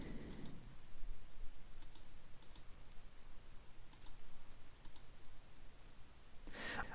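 Sparse, faint computer mouse clicks tick out singly and in quick pairs against a quiet room background, with no one talking.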